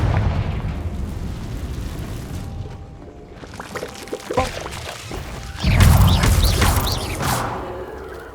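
A Confringo spell goes off in the Hogwarts Legacy video game, a fiery blast with a whooshing rush and a deep, loud boom that swells and rolls away, heard alone without talk.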